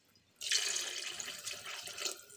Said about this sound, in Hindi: इसलिए मैं 2 गिलास इसमें पानी डाल रही हूँ।